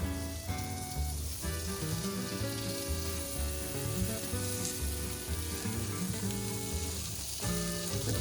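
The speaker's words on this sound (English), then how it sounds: "it's important to mix it around quickly and not to let the butter burn" Butter browns in a very hot pan for Greek kourabiedes, giving a loud, continuous, close sizzle with light stirring throughout.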